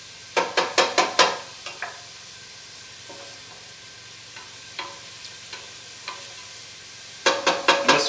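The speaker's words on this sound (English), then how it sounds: "we just need to sweat the onion out a little bit" Onion sweats in a pot for tortilla soup, with quick bursts of spoon clatter and stirring at the start and end around a quiet, low hiss and a few scattered taps.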